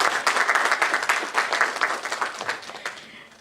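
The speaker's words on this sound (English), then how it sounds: "Can we have a round of applause, please?" Warm audience applause welcoming a moderator on stage at a diamond industry panel event, full and close at first, then gradually tapering off.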